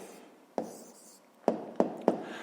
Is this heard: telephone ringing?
no